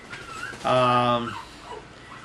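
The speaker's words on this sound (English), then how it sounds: "puppies." A short, high-pitched puppy whimper rises over a quiet room, lasting about half a second amid faint background noise.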